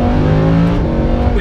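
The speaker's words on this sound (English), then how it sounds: "This is no doubt gonna be one of the last naturally aspirated V10 engines in a mass produced sports car." A Lamborghini Huracan's naturally aspirated V10 sports car engine revs loud and close, a steady full-throated roar with a rising tone, heard alone without talk.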